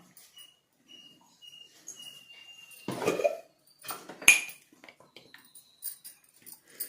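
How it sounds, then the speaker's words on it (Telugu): Ingredients, including henna powder for a natural hair dye, go one by one into an iron pan, giving a couple of brief clattering, rustling bursts against a quiet room with faint background voices. "ఇనుము బాండలు తీసుకునేసి మనం ఒక్కొక్క వస్తువుగా నేను వేసి మీకు నేను చూపిస్తాను"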